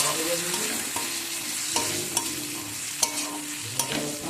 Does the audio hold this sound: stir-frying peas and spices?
yes